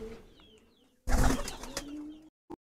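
Pigeons in a Bangladeshi racing loft, including a regional-line cock bird, give soft coos near the microphone, with a louder burst of cooing and rustle in the middle and a brief sound at the end.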